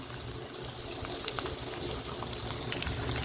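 Onions sautéing in a pan for a tamarind curry with cluster beans, giving a steady, close sizzle and bubbling hiss that holds throughout with small crackling pops and no talking.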